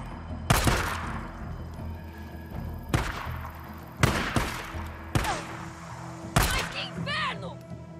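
Gunfire in the video game Days Gone: several sharp, loud shots spaced about a second apart over ambient game sound, with brief voices between them.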